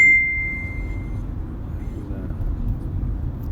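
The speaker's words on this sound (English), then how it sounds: "I know notifications can be pretty loud." A phone notification chime gives a single short bright ding at the start, then fades into a steady low background hum with no speech.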